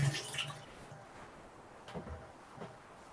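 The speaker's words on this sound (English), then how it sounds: "I'm just going to go over to my sink and dump out the water" Pressing water from tofu is poured into a kitchen sink in a short splash, followed by a couple of faint knocks and a brief second trickle, quiet and close.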